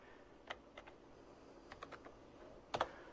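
Keys tapped on a computer keyboard in quiet, scattered bursts, single clicks and short runs of quick strokes ending in a firmer flurry, close and faint, no voices.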